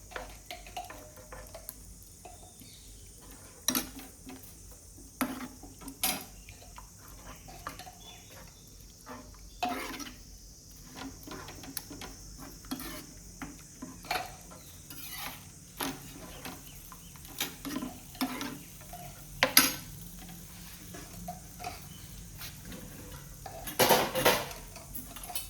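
Eggs and tomato being mixed in a pan for tomato egg bhurji, with repeated scraping and clinking of a utensil against metal in an irregular rhythm, fairly close, with no talking.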